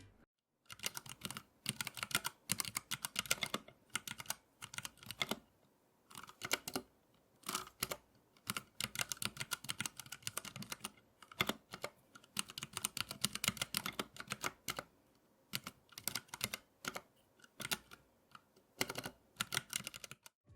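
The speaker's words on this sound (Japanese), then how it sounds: "このキーボードではバランス型であるブラウンを試してみました" Someone types on a 60% mechanical keyboard with Cherry MX Brown tactile switches, producing quiet, continuous runs of close key clatter broken by brief pauses, with no voices.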